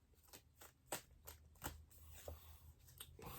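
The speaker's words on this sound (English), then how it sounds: "Let's give the cards a shuffle." Tarot cards are shuffled in a quiet room, a run of crisp riffling snaps and soft slides repeating irregularly, close and fairly faint.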